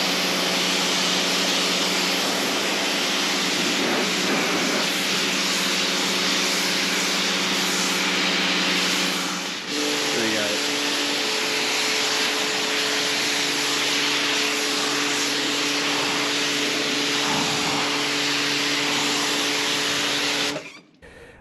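A Nilfisk Excellent 160 (E160) pressure washer runs loud and close with a steady motor whine and spray hiss, dipping briefly in pitch midway before continuing, then cutting off abruptly at the end.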